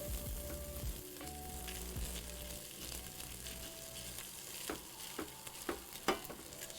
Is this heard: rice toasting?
yes